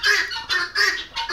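Farm hens in a laying flock call over and over, three loud, nasal clucks in a steady rhythm, close by with nothing else heard.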